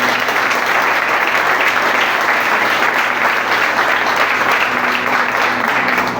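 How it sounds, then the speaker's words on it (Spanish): Sustained loud applause from a church congregation fills the whole stretch, steady dense clapping with crowd murmur and no speech over it. "pero den un aplauso a Dios ahí."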